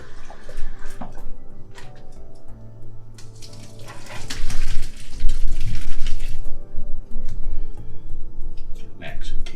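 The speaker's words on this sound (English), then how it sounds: "I'm going to take this and drain it into a colander." Cooked vegetables for hutspot drained into a colander: a rush of pouring water and splashing swells midway and continues with trickling, while voices talk in a kitchen.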